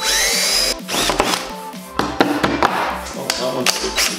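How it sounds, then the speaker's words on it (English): A power drill bores with cheap drill bits during a Toyota Supra build, with short bursts of whining motor and gaps between them, heard up close alongside clanking tools and faint background noise. "My assortment of one-time-use drill bits."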